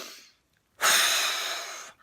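A deep breathing exercise: a short faint inhale, then a long, loud, close breath in or out that lasts about a second, with no speech.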